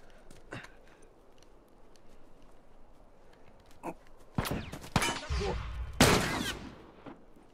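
Gunfire in The Last of Us Remastered, a few sharp cracks and then a burst of loud close shots with ringing tails in the last few seconds, after a quieter stretch with faint clicks.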